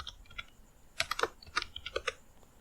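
Short bursts of typing on a computer keyboard while entering code in a Python tutorial, a few quick key clicks, then a denser cluster of keystrokes, close and fairly quiet.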